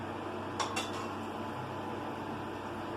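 Dal being ladled from a pot into a small bowl, giving two quick metallic clinks of the ladle against the vessels over a steady low kitchen hum, with no voices.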